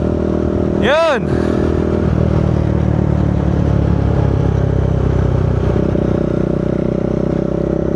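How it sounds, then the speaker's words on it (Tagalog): A new motorcycle engine runs loud and close, a sustained rumble with a brief rising rev near the start, while a person calls out over it. "Testingin nila yung kanila ngayon. Yung bago nilang motor."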